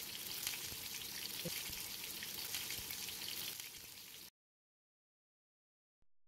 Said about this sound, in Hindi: हमने तवे पर इनको शैलो फ्राई करने के लिए रख दिया है।